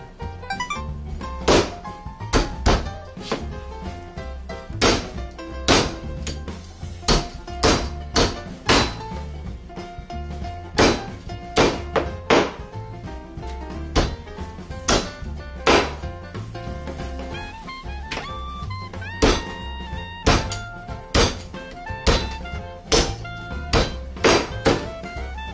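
Hard grouper (kue) bones chopped with a knife for soup, a steady series of loud, sharp thunks on a cutting board, close up with no talk.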